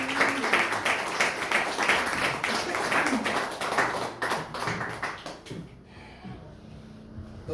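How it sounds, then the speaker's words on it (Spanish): Steady applause from a church congregation, a dense wash of clapping that holds for several seconds before fading off. "Démosle un aplauso al Señor"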